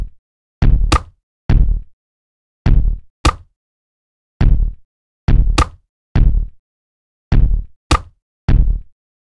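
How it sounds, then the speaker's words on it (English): Programmed kick and snare drum samples for a beat play together on the grid, a punchy sequence of about a dozen sharp, loud hits with deep low thump and bright snappy tails in an even, repeating rhythm, no voices. "So the kick and the snare together sound like this."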